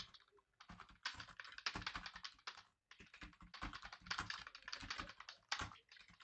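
Rapid, steady typing on a computer keyboard, entering Hindi text, with dense bursts of clicking keys broken by a short pause, close and clear with no voices.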